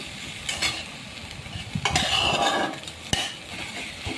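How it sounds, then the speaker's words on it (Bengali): Susuni saag leafy greens sizzle and crackle as they are stirred and fried in a pan with salt and turmeric, with occasional scrapes and clinks of a spatula against the pan, close and steady with no talking. "এরপর কিছুক্ষণ শাকটা এভাবে ভাজতে থাকলে"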